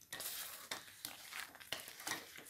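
Chili flakes being stirred into tamarind pickle in a bowl, with a few scraping, clinking strokes of the spoon repeating about every half second, close and fairly quiet.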